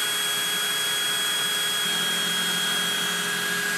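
Ryobi R18PD7 cordless hammer drill running free under a speed test, a steady high motor whine with a fixed tone that jumps to a different pitch partway through as the gear changes, close and loud, no talk.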